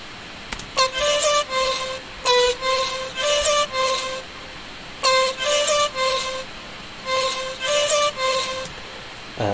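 A vocal chop sample plays dry and unprocessed: bright, pitched, clipped vocal stabs in rhythmic groups of short bursts separated by brief gaps, loud and alone.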